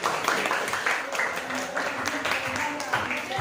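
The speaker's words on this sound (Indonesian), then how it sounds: "Oke, tepuk tangan buat mereka." Students in a classroom clap for a presenting group, a dense burst of hand claps with voices mixed in throughout.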